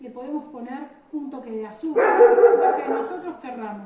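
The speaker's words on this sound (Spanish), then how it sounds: "Perdón por el perro" A dog barks indoors during a Spanish-language cooking class on sauces, a short burst of loud barking and yips rising over a woman's ongoing speech, which runs before and alongside it.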